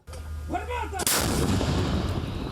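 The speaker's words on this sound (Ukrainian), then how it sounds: "З першого пострілу ціль уражена." A single loud artillery blast booms out suddenly after a moment of low rumble, followed by a long rolling, echoing roar, on the front near Bakhmut.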